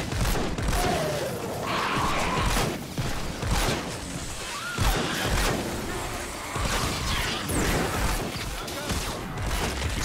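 Sustained minigun fire in Fortnite: Save The World against Mist Monsters: a loud, unbroken rattling barrage mixed with crashes, whooshes and hit impacts for the whole stretch.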